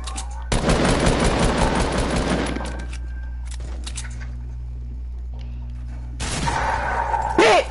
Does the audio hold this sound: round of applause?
no